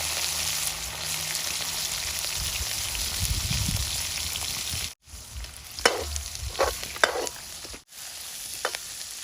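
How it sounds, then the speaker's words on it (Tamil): Onion, green chilli, garlic, mustard seeds, cumin and fenugreek hit hot oil with a loud sizzling hiss, then stir, with a couple of brief dropouts and some crackling pops in the second half. "எண்ணெய் வந்து நல்லா கொதிச்சிருக்குது இப்போ என்ன செய்ய போகிறோம் எல்லாம் வெங்காயம் பச்சை மிளகா உள்ளி கடுகு சீரகம் வெந்தயம் எல்லாத்தையும் வந்து தான் போடுவோம்"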